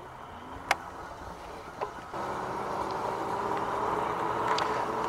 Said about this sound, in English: there's a fair amount of noise. Some of it's from the tires and some of it's from the gears in the bike